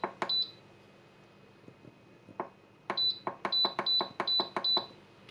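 Button beeps on an Instant Pot electric pressure cooker: a single beep, then a quick run of about six short, sharp beeps in rapid succession over quiet room tone with light clicks.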